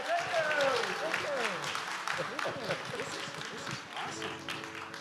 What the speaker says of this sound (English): ladies and gentlemen, with your wildest applause and shout, let's bring on stage no other person than my good friend, Jim Fruchterman.